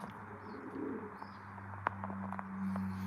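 Pigeons in a loft give soft, low cooing under a faint background hum, with a sharp tap and a few small chirps scattered through.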